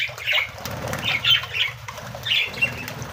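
Parrots in a cage flap their wings in repeated rustling bursts close by, with a few squawks mixed in.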